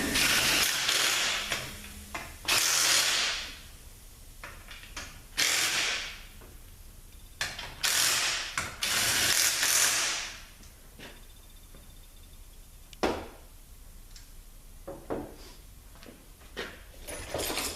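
A ratchet tightening bolts on a Honda engine case during assembly: short bursts of rapid clicking separated by pauses and quieter handling noises, close and fairly loud, with no talking.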